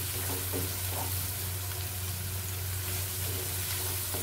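Masala spices fry in oil in a pan for a Bihari-style chicken masala with a little water, sizzling steadily throughout while occasional spoon scrapes from stirring surface over a low steady hum.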